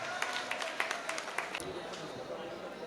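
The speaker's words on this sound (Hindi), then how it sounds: "ज़ोरदार तालियों से इस्तकबाल करें मोहतरम इकबाल साहिल साहब" At a mushaira poetry gathering in Sikchi Mangalam Hall, the audience applauds to welcome a poet, a busy patter of claps in the first half fading into a softer wash as a voice carries on.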